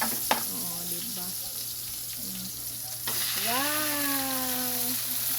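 Spices, then lubi-lubi leaves, sautéing in a pan: a steady close sizzle and stirring with light scrapes, and a voice talks over the frying in places.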